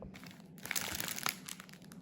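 A plastic bag crinkles and rustles as it is closed tightly and tied with string, giving soft, close, irregular crumpling bursts through the middle of the stretch, with quiet gaps before and after.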